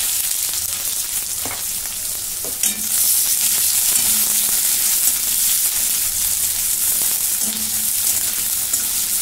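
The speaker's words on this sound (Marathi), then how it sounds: "आता कांदा चांगला भाजून झालेला आहे." Chopped onion fries in a pan with a loud, continuous sizzle and crackle, with a few faint scraping stirs and knocks along the way.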